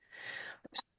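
A short, faint sneeze-like burst follows a soft breathy hiss, quick and close, ending in a sharp high snap.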